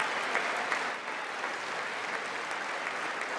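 Sustained applause from the audience at a State of the Union address fills the hall as a dense, steady wash of many hands clapping, with no break.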